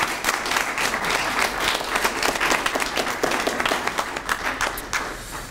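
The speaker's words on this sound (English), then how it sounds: "Give them a round of applause, please." Audience applauding participants at an awards event, a full, sustained round of clapping from many hands, even and continuous, with no voices standing out.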